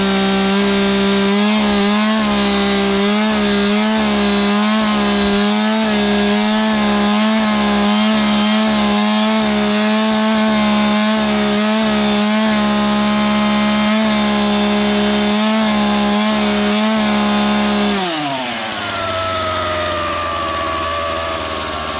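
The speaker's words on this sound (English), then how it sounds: "Just how the chainsaw is intended to be used." A chainsaw cuts wood for a hot bed garden build on an off-grid homestead, loud and close with a throttle that rises and falls rhythmically, then drops to a lower idle near the end.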